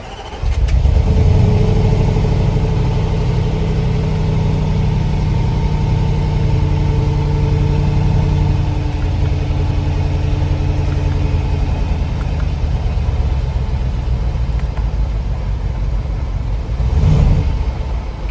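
Range Rover engine cranks, catches and settles into a steady, loud idle with a slightly uneven, misfiring beat, running alone close by for the whole stretch.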